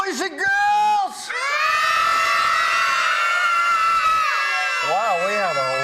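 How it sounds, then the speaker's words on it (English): A crowd of young girls in a Girl Scout troop cheers loudly in a studio audience, producing a sustained, shrill chorus of screams and whoops that rises and wavers. Brief voices come before and after the cheering. "Wow, we have a loud crowd tonight, Very strong lungs."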